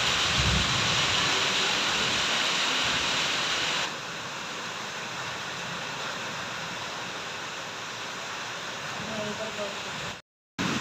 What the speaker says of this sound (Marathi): किती पाऊस पडत आहे